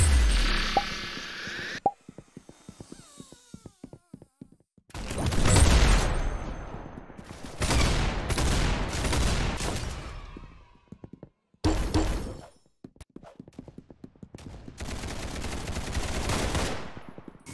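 Gunfire in Roblox Arsenal comes in dense bursts of rapid shots separated by short silent gaps, loud and close, with quick single pops scattered between the longer volleys.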